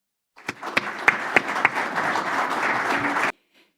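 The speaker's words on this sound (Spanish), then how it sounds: "Así que, por favor, recibamos con un aplauso a Claudia." Applause at a Chilean business panel as a CMPC speaker is welcomed: a few sharp early claps swell into steady, fairly close clapping for about three seconds, then stop abruptly.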